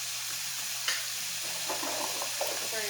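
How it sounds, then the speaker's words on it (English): Garlic sizzles with rice in a hot frying pan, a steady close hiss with a few soft stirring scrapes and clatters. "Throw some garlic in the rice real quick."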